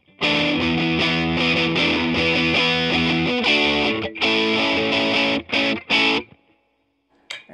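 WestCreek Racer offset SG electric guitar through distortion with both pickups combined, played as loud sustained chords that cut off abruptly in short stabs near the end, then silence.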